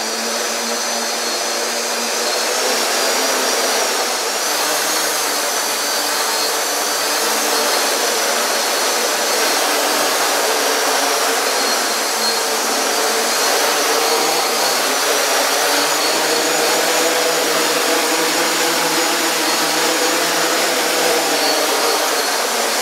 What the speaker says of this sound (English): once the lower motors kicked in, you see how the upper motors reduced their RPM?